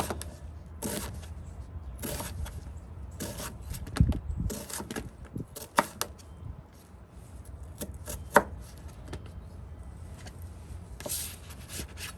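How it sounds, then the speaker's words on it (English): A knife chops through a spicy onion on a cutting board, giving a steady run of close, crisp thuds with a few sharper knocks and scrapes, and no talking. "I think I'll quarter it and then chop it up."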